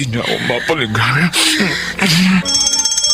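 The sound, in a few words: motel fire alarm ringing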